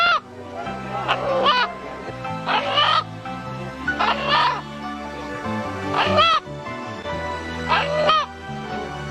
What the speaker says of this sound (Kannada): ಜನರು ಹುಂಜ ಕೂಗುವ ರೀತಿ ಕಂಡು ಬೆಚ್ಚಿದರು